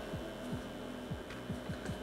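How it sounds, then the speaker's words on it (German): The cooling fan of a Grundig portable power station runs as a faint, steady hum, with soft repeating whirs and ticks close by and no talking. "Was ihr jetzt hört, ist der Lüfter."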